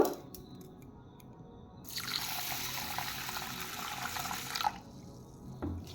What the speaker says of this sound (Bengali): চালটাকে ভালো করে পরিষ্কার করে হালকা হাতে ধুয়ে নেব